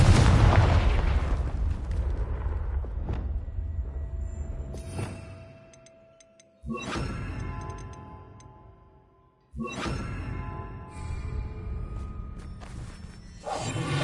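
A Confringo fire spell in Hogwarts Legacy bursts with a loud booming explosion, then two more sharp blasts follow, each trailing into a crackling, whooshing decay.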